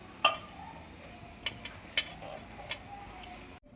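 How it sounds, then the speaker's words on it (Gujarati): Spinach pakoda batter of gram flour, crushed carom seeds and salt is mixed in a bowl, giving a few faint, irregular clinks and soft scrapes against a quiet background. "આપણે મિક્સ કરી લઈશું."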